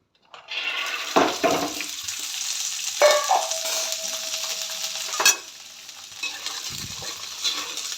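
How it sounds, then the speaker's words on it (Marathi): Green peas sizzle and crackle in hot oil in a wok, with occasional stirring scrapes and clatters in the pan. "वाटाने भाजण्यासाठी"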